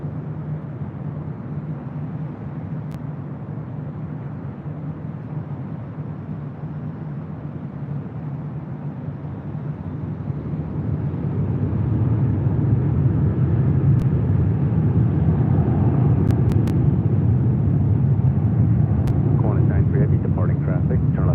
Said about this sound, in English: Lufthansa 451 Heavy, clear for takeoff, runway 24 left